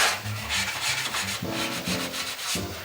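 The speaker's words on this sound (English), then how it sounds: "I'll take my Scotch-Brite and I'll Scotch-Brite it all down just like I'm sanding it." Scotch-Brite pad scrubbing bare car metal during restoration prep, a rhythmic rasping rub in short back-and-forth strokes, close and steady with no talk.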